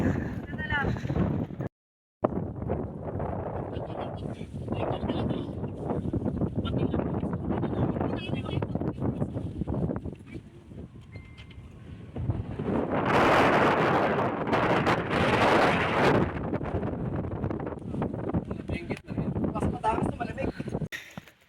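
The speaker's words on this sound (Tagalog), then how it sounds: "So malakas ang hangin." Strong wind buffets the microphone in loud gusts while people talk over it, the roar swelling even louder in the middle.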